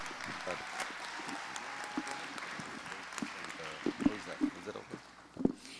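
A crowd at a prize presentation for young singing contestants claps in a steady patter, with some sharper nearby claps toward the end and voices talking over it.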